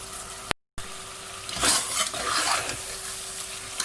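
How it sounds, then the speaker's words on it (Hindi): Beef karahi sizzles in a pan as it is stir-fried, with a short silent gap early on. Then come bursts of spatula scraping and frying crackle, close and fairly quiet. "अब इसको भून लेंगे अच्छी तरह से।"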